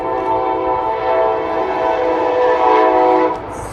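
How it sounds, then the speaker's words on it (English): A loud train passes close to an apartment, a steady heavy roar with sustained horn-like tones that holds throughout and eases off slightly at the end. "that train really is that loud."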